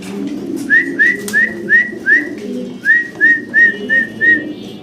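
Fancy pigeons coo close by in two quick runs of repeated rising notes, five or so in each burst, with a short pause between and faint rustling underneath.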